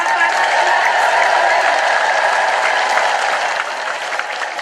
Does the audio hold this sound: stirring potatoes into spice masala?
no